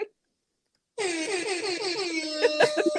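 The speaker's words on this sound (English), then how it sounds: "You need your air horn." After a brief silence, a loud air horn blasts continuously for about two seconds, its blaring tone wavering slightly.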